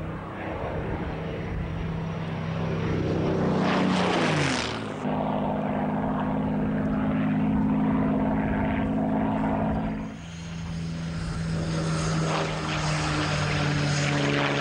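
A scale-replica Mustang or Spitfire propeller fighter plane's engine drones loudly, its pitch sweeping and dropping as it passes, then settling into a steady buzzing hum with another shift later.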